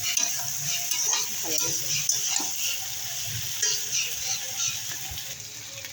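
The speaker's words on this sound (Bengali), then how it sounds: "দেখো আদা রসুন দিয়ে ভাজা ভাজা হয়ে গেছে।" Chopped ginger and garlic fry in hot oil, a crackling sizzle close by with stirring scrapes, while a voice speaks briefly.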